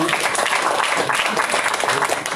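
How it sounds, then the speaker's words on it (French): Audience applause during a French talk show, a brief dense burst of clapping with some voices mixed in, loud and continuous. "On peut l'applaudir quand même."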